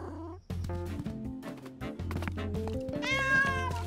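A cartoon cat meows in a drawn-out, pitched voice over a continuous musical backing, with the calls rising higher toward the end.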